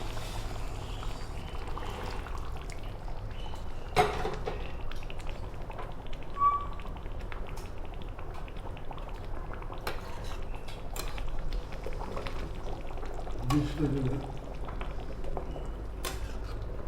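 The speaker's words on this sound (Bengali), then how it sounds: "আগে থেকে সেদ্ধ করা জল, এটা ঝুল খেতে হয় তাই একটু বাড়িয়ে দেব।" Pre-boiled water pours into a pot of simmering bish kochu (taro) curry, giving a steady soft liquid wash with bubbling and a few light utensil clinks throughout.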